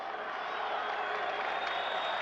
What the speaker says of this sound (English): Crowd has been enthusiastic.